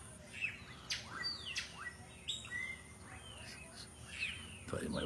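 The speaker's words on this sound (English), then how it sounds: "Thought you might want to hear what it sounds like here in the day. The birds going by." Daytime birds in Belize chirp and call in short, clear bursts over a faint background hum, several separate calls spread across the moment, moderately distant and fairly quiet.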